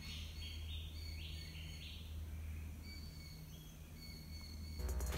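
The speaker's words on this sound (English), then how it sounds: "Just some birds, and that's all you can hear." Birds calling along a trail in the Daintree Rainforest, with repeated high chirps and whistles over a steady insect-like hum, fairly faint and distant, with no talking.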